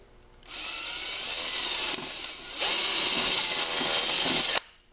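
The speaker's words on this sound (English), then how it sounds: "Drill a nice size hole in there." A power drill bores a hole in a plastic hood scoop for a Jeep, a high steady whine in two close bursts separated by a brief pause, with no talking.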